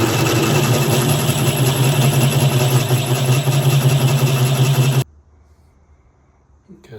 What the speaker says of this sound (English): Okay, so we drilled through the knob.